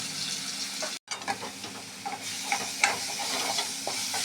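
Ground small onion and garlic paste sautéing in hot oil after cumin has crackled, giving a steady close sizzle with scattered stirring scrapes and a brief dropout near the start.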